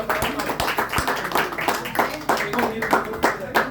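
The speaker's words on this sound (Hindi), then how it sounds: "तालियां बजती रहनी चाहिए।" Audience clapping at an institute's award night, uneven rhythmic claps and distinct hand slaps mixed with a voice speaking over the crowd.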